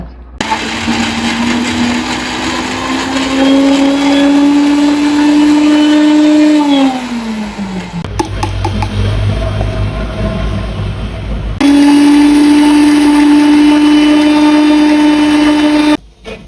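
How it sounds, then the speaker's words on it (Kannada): A mixer grinder grinding chana dal whirs loudly and steadily, its pitch dropping as it slows, then pausing with clattering before revving up again at full speed and cutting off. "ಕಡಲೆಬೇಳೆ ಮತ್ತು ಇದನ್ನು ಮಿಕ್ಸಿಗೆ ಹಾಕಿ ಇಟ್ಕೋತೀನಿ ಇವಾಗ"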